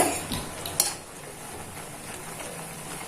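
An instant noodle pizza mixture is stirred in a pan, with a sharp utensil clink near the start, then steady soft scraping and light sizzle close by and no voices.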